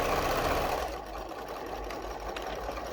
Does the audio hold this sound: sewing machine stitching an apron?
yes